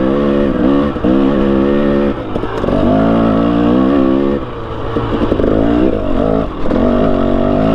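A 300cc two-stroke dirt bike engine revs and lugs hard as it climbs a hill, a loud, continuous, close engine note with rising and falling pitch through the whole stretch.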